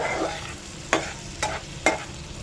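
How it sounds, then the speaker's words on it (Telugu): Garam masala stirred into an amaranth-leaf liver curry in a pan, a steady sizzle broken by three distinct spoon scrapes against the pan about half a second apart, close and with no voices. "ఇప్పుడు ఇదంతా కలుపుకోవాలండి"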